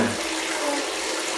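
Tap water runs steadily and fairly loudly while a toy doll's feet are washed, a constant splashing rush with no speech over it.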